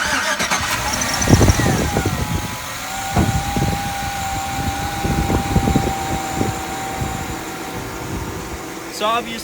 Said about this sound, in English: I'm just gonna hop in real quick and give it a quick start